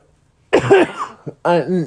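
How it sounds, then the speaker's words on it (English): A person coughs twice in quick succession, close and loud, a harsh voiced hack followed after a brief pause by a second rougher cough. "It's not really sickness, it's just the coughs"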